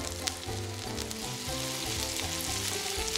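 Clams stir-fried with basil sizzle and crackle loudly in a hot pan, with steady frying hiss and rhythmic clattering thumps as the food is tossed and stirred.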